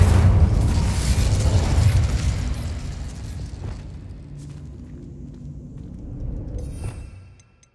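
A fire spell cast in the video game Hogwarts Legacy bursts with a loud boom, then a rumbling roar that slowly fades, ending with a brief crackle before silence.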